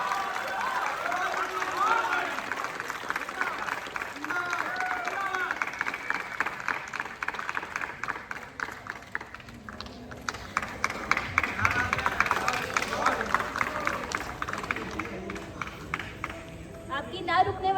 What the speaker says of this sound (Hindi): आपकी ना रुकने वाली तालियां